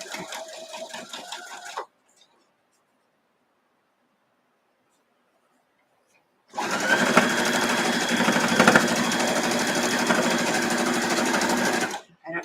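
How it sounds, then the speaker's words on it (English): A sewing machine stitches fabric strips for a quilt block, running in one steady, close, rapid whirring stretch of about five seconds after a brief voice and a silent pause. "So I'm going to sew from the top side."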